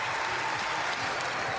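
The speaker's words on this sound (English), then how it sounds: "There's a huge roar from the home crowd for Andreas Toba" A home crowd roars at the 2025 European Artistic Gymnastics Championships for German gymnast Andreas Toba on high bar. Loud, dense cheering and applause fill the whole stretch without a break.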